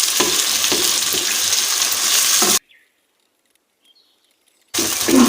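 Mutton frying in oil for a karahi, a loud, dense, steady sizzle that cuts out abruptly to near silence for about two seconds, then resumes just as loud.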